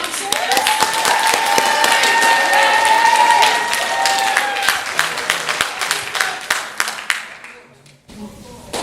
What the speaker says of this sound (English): Round of applause for our February announcers.